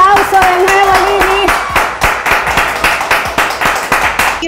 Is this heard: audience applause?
yes